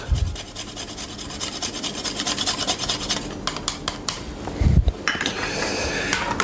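Spice is grated over a New Orleans milk punch, a creamy brunch cocktail served strained in a small tumbler: a close, continuous rasp of grating with a couple of duller knocks partway through and no talking.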